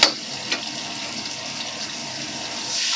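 Water splashes and pours steadily into a pan holding deep-fried prawns, a brief hissing rush with a small splash at the start.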